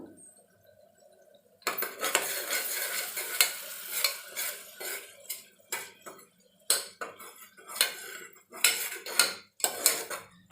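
Mutton cooking in oil inside a pressure cooker pot, loud metal spoon scrapes and clanks against the pot over a soft sizzle, coming in irregular bursts with brief pauses between strokes.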